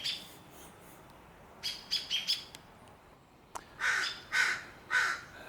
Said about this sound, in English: Three calls in succession are supposed to be a danger call, which tells crows to leave.